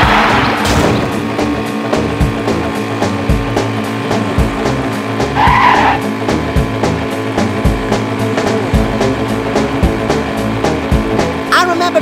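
A racing car in a SpongeBob video game roars loudly with a steady engine drone, its tires squealing and skidding, while cartoonish game sounds chirp over the top.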